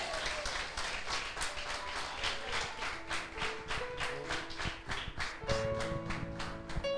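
A church congregation applauds during a worship service, with steady, sustained clapping from many hands in a reverberant hall, while sustained organ or keyboard chords play underneath.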